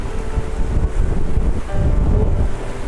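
Water of a lake with trout, a steady broadband rush of lapping water mixed with heavy wind buffeting a microphone outdoors, continuous and loud with no voices.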